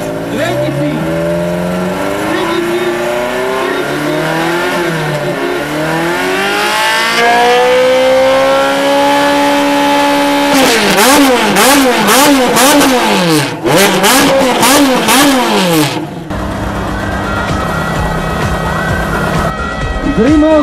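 Car engines revving hard at a tuning meet in Rimavská Sobota, rising and falling sweeps climbing to high rpm, then rapid repeated blips and a banging limiter, loud and close with crowd chatter and people talking throughout.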